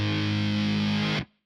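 Reversed electric guitar riff played through a newly built distorted tone, a dense sustained swell holding steady and loud, then cutting off abruptly near the end.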